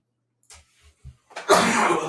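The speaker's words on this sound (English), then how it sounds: "You blew out the microphone with that mighty sneeze." A single loud, forceful sneeze close to the microphone, preceded by a few short sharp inhales and catches before the burst, which then trails off with breathy noise.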